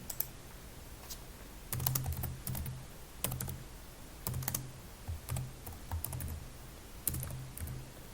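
Computer keyboard typed on in quick clustered bursts of light clicks with brief pauses, ending with a firmer Enter key press, close and quiet with no talking.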